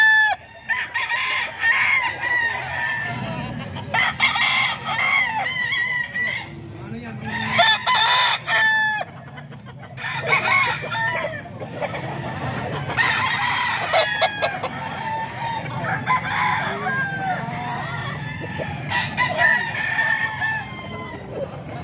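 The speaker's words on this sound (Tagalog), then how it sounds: "Ito mga ka-idol, manok pa ni Boss Albert" Gamecock stags crow repeatedly at a banded-rooster event in San Jose del Monte, Bulacan, several calls overlapping and spaced a few seconds apart, over a steady murmur of crowd noise and clucking.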